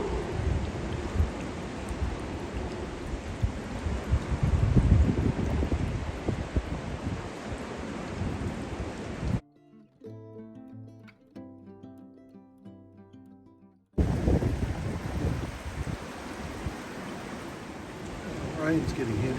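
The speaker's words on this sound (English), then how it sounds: "Wind's really howling through the rigging" Steady wind roars through boat rigging with rain noise for several seconds, cuts to a quiet stretch of soft tones, then the gusty cyclone wind and rain return loud and close.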